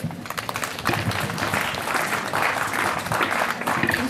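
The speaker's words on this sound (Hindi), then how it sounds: "तालियां बजती रहे क्योंकि हौसला तब बढ़ता है जब तालियों में जोश बढ़ता है।" An audience at a district-level school talent search event applauds, with steady, dense clapping from many hands that stays loud and close throughout, without pause.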